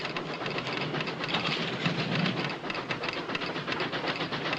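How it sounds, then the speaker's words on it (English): Steam locomotive pulling into a station, a steady loud rumble with hissing steam and a rolling clatter of wheels that holds at a fairly even level throughout. "Are you folks taking this train?"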